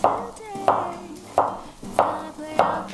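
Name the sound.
slicing onion with knife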